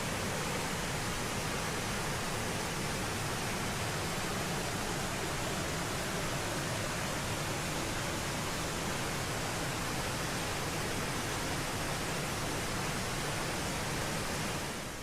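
A waterfall on a mountain hiking trail gives off a constant, dense hiss of falling water, steady and unbroken, heard at moderate volume from a viewing spot.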